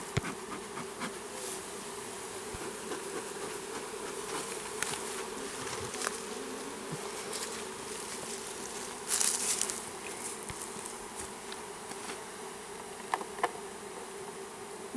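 Honeybees buzz steadily inside an open hive as they crawl over the frames, a dense close hum with faint scattered clicks and taps of handling, no voices.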